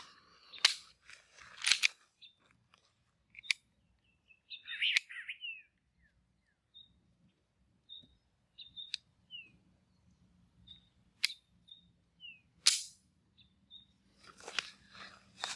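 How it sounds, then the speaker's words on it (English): A SCCY CPX-2 9mm pistol fires a few sharp, separated shots outdoors, spaced several seconds apart, while birds chirp faintly between them. "I'm gonna shoot a couple rounds through this gun just so I can actually shoot it, and you'll see the first shots fired"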